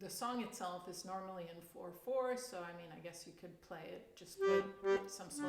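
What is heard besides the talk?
None of the usual background noises is heard.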